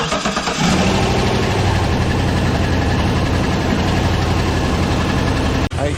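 A car engine starts and settles into a steady, loud idle, warming up after its left-side spark plugs were changed, a constant rumbling drone close by that cuts off abruptly near the end.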